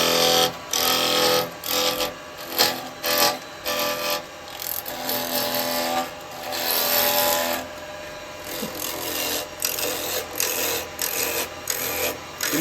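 A woodturning gouge cutting heavily into wood turning between centres on a lathe, a loud continuous rasping shear with rhythmic surges as the tool is pushed in and drawn back, close up with no talk.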